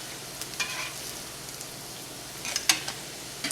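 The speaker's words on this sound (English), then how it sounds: "has been frying in our cast iron skillet for about 2 minutes" Quiet, steady sizzling of polenta and pitalone frying in a cast iron skillet, with a few brief scraping or popping bursts rising above the hiss.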